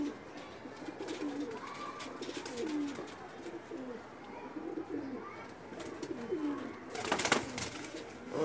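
Breeder pigeons coo softly over and over in rolling, repeated calls, overlapping at a moderate distance over faint background noise.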